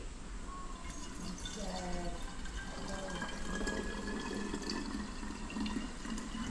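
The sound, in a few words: pouring water kefir into a jar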